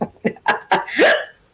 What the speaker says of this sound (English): Why am I having hiccups?